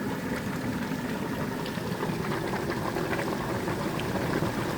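Maple sap boils steadily in a large wood-fired evaporator, a continuous dense bubbling and hissing roar, even and fairly quiet, with no voices.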